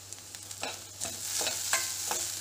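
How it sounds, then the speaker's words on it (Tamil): Crushed ginger and garlic sauté in a pan for a taro fry, a soft close sizzle punctuated by a quick run of scraping stirs and clinks, with no one speaking. "ஒரு மேஜை கரண்டி இடித்த இஞ்சி பூண்டு சேர்த்து பச்சை வாசனை போகிற வரைக்கும் வதக்கிக்கோங்க"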